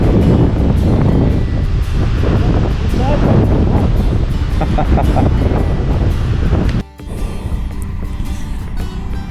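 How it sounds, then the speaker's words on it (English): Strong wind buffets the microphone during a motorcycle ride on a highland road near Rannoch, a loud, constant roaring rumble that dips sharply for a moment near the end, with voices faintly mixed in. "It's a breezy."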